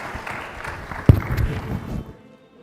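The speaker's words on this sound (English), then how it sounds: "Please, a big round of applause for our panelists." An audience applauds panelists at a World Tourism Day conference, a brief burst of clapping in a large hall that swells and then stops abruptly.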